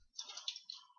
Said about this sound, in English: All I have to just type what I'm typing right now.